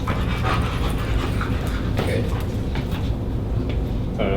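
A German Shepherd pants steadily and close up, with a few faint whimpers over a constant loud outdoor background.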